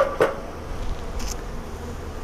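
Honeybees buzzing around a beehive on a balcony, a close, continuous droning hum with a couple of brief louder bursts near the start.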